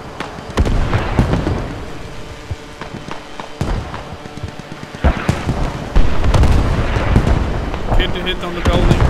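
Mortar and hell cannon artillery fire in the Squad video game's Middle East Escalation mod, heavy booming blasts and rumbling impacts recurring in irregular bursts, loud and close, with crackling debris between shots.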